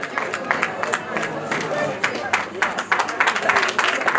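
Wedding guests clapping in a crowd, steady, dense applause close by, mixed with the murmur of voices and someone talking over it.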